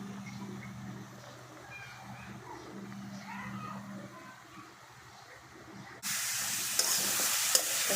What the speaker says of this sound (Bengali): তারপর তেলে বাগার দিব।